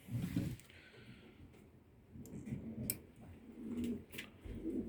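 Pigeons coo softly and repeatedly in a pigeon loft, with low murmuring calls overlapping and occasional light knocks and rustling.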